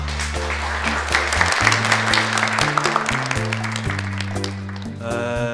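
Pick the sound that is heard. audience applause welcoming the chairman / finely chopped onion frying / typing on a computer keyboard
audience applause welcoming the chairman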